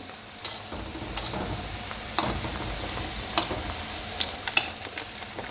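Egg rolls fry in hot oil with a steady, dense sizzle and occasional pops and crackles, close and fairly loud throughout.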